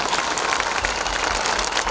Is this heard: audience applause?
yes